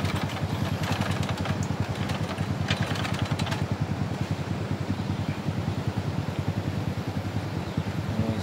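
A teacher's motorcycle, which stalls when ridden, runs at a steady idle while being checked, a close, continuous low throbbing with some wind noise over the microphone.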